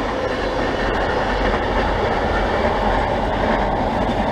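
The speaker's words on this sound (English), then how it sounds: "Yep, we have VSET crossing the bridge." A VSET passenger train crosses the Meadowbank rail bridge with a loud, steady rumble and rhythmic clatter of wheels on the track, close and continuous throughout.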